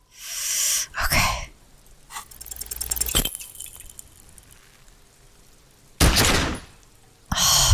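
A gun fires in Disco Elysium, a sharp loud blast followed by ringing, then more heavy bursts of noise separated by quiet stretches.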